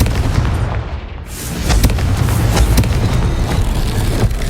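A Confringo blasting spell in the Hogwarts Legacy video game sets off a loud, booming explosion up close, followed by a sustained rumbling roar with crackling bursts that fade slowly.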